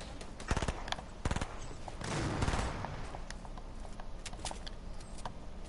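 Burst-fire gun shooting in the Fortnite video game: several quick multi-shot bursts crackle close and loud over a steady background hum.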